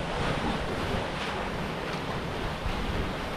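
Ocean surf on a tropical shore rushes steadily, broad and loud, mixed with heavy wind buffeting the microphone, with no voices.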